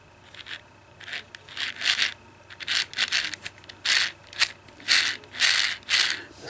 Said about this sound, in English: hold it steady and tighten it up